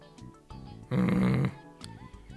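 A loud, drawn-out snoring sound in the video game Dragon Ball Xenoverse rises abruptly for about half a second over game background, then fades back to quieter ambience.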